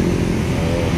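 Motorcycle passing on a busy road in Taytay, Danao City at around 6 PM, a brief close engine roar over steady traffic noise.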